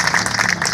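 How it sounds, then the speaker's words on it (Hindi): Audience clapping at a Jain memorial pillar inauguration event on a road in Bhind, a short burst of dense, brisk applause heard close and fairly loud. "एक बार उनकी भावनाओं के लिए जोरदार तालियां बजा दीजिए।"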